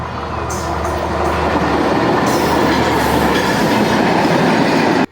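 A train rumbles past close by at a railway crossing, a steady loud roar of wheels and carriages with faint clatter, continuous for the whole stretch.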